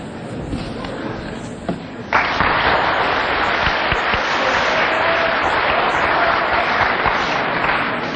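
A lecture audience claps, starting as a thinner patter and swelling after a couple of seconds into dense, steady applause that fills the room without a break.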